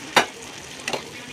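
Chana dal is stirred in a pan while frying, giving two brief scraping, sizzling strokes under a faint background hiss.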